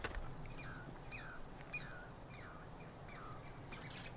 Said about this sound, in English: those little chirps you're hearing, they're not birds. They're a kind of squirrel called a chicory